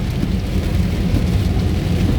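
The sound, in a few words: heavy rain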